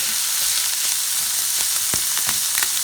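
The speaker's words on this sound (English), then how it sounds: "Put some oil in the pan and time to fry the bacon." Bacon frying in oil in a pan, giving a steady close sizzle and crackle with a few sharper pops and no voices.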